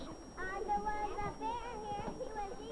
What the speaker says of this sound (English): What makes the room so noisy?